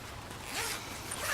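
A backpack zipper pulled open in one quick, close raspy zip lasting about a second, clear and alone.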